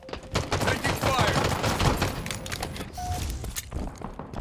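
Gunfire in the video game Halo Infinite: dense bursts of automatic fire crackle continuously for several seconds, loud and close, with a few electronic tones and a voice briefly mixed in.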